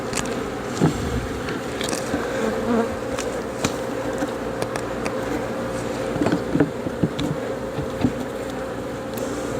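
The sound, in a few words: honeybees buzzing during hive inspection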